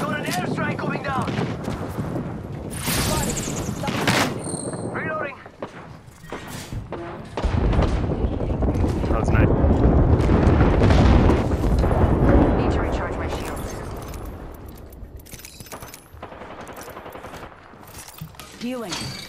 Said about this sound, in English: We got an airstrike coming down.